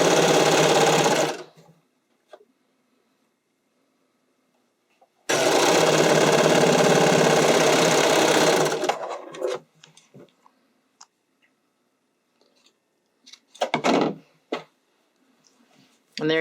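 A sewing machine runs loud and close, sewing a spandex sleeve seam in two steady bursts separated by silence, with brief spoken talk near the end.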